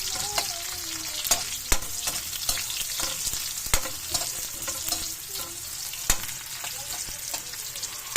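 White onion and garlic sauté in a pan for ampalaya with eggs, a continuous close sizzle broken by sharp clicks and clinks of stirring at irregular intervals, with no talking.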